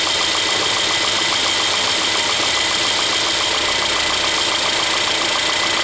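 A Mercedes 1.6 turbo engine, as fitted to the A200, B200 and GLA200, idles loudly and close with an abnormal noise, a steady mechanical hum carrying a fast rhythmic ticking or knocking throughout, with no talking.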